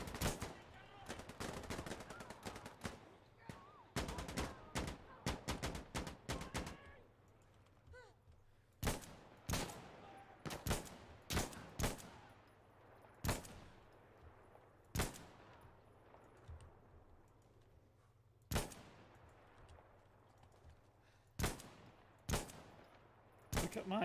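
Gunfire in the video game Insurgency Sandstorm: loud, close bursts of rapid automatic fire alternate with isolated single shots spaced a second or two apart, separated by quieter gaps with low background hum.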